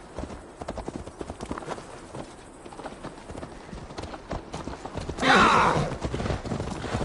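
Eivor's horse galloping on a ride toward Tamworth in Assassin's Creed Valhalla, a steady, fast clip-clop of hooves that keeps going underneath the game's ambience, with a sharp burst partway through.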